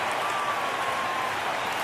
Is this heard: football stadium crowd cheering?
yes